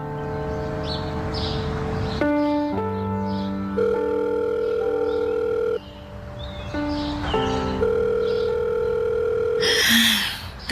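A telephone line plays a sequence of steady electronic tones of differing pitches while the caller waits for an answer, fairly loud and close, with no one speaking.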